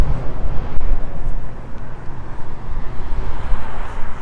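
Wind of about 30 mph buffets an outdoor microphone in Brickell, Miami, as a low, gusty rumble that swells and dips unevenly with no voices.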